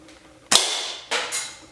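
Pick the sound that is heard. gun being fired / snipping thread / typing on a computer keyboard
gun being fired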